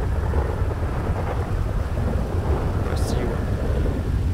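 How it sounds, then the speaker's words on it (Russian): A thunderstorm rolls over the world of GTA 5, a continuous heavy rush of rain and wind with a low rumble of thunder underneath and a brief sharp crack near the end. "Там какая-то буря началась."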